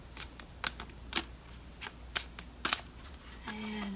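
Cards are shuffled in a series of crisp riffling bursts, separated by short pauses, close up with no talking.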